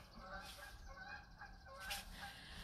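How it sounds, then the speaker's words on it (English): A few honking calls from a flock of geese rise over a steady, noisy background, moderately loud, with the strongest honks near the middle and end. "and there goes the geese."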